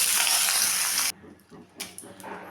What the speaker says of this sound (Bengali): বেগুনটাকেও নুন হলুদ দিয়ে ভেজে নেব।